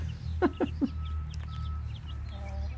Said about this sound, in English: These chickens have the life.